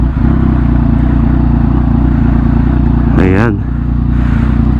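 A 2021 Yamaha XSR 900, a neo-retro modern classic motorcycle, drones at a steady engine note, then rises in a brief sharp rev near the end before settling back, close and loud.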